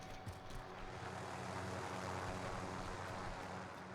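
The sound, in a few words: helicopter in a video game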